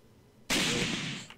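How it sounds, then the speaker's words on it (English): A flashbang grenade bursts in ARMA 3 with a sudden loud, bright blast that holds as a sustained hissing roar for nearly a second, then tapers off. "if you got a flashbang, toss it right over this blue Connex trailer"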